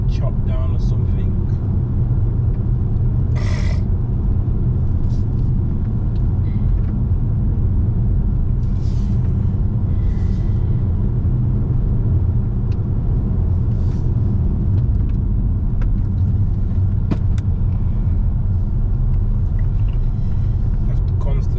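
Car engine rumbling steadily on a narrow, twisting forest road in Ireland, with continuous low drone and shifts in engine note as gears change, close and loud throughout with faint speech in the background.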